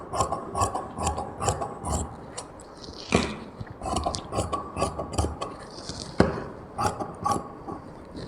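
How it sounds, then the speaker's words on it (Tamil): Scissors cut a fabric strip for a plain blouse, giving a steady run of close, rasping snips and slides through the cloth with short pauses between strokes. "இதை வச்சு நம்ம இன்னொரு பட்டி கட் பண்ணி எடுத்துடலாங்க"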